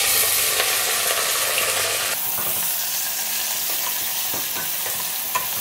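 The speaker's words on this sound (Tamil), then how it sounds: "இப்போ நம்ம அதில் வந்து கொஞ்சம் கருவேப்பிலை, அதில் இந்த வெங்காயத்தை கொட்டுவோம்." Sliced onions and curry leaves hit hot oil in a pan for a Kerala egg curry, giving a loud, close, continuous sizzle that shifts partway through as the ingredients settle, with light stirring clicks and no speech.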